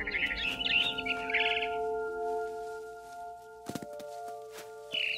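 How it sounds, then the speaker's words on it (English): A barn swallow chirps in bright bursts within What Remains of Edith Finch, heard over steady droning music tones, with a short pause and a few soft knocks before one last chirp. "Then I heard chirping outside my window. It was a barn swallow going back to her nest."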